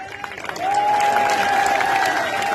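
Crowd at an outdoor political rally in Dimni breaks into sustained clapping and cheering, swelling louder after a moment and continuing steadily, with a whistle-like tone running through the din.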